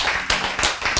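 A church congregation claps during a sermon, a short burst of several crisp hand claps in quick succession, loud and close.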